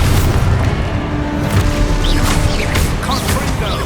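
Expulso spell blasting in Hogwarts Legacy, a loud, sustained booming crash with crackling debris, dense low rumble filling the whole moment with scattered sharp bursts.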